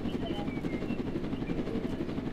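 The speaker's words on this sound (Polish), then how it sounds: "Dobra, helikopter, helikopter." A helicopter in the Roblox video game Jailbreak gives a steady, continuous rotor drone that stays even and prominent throughout.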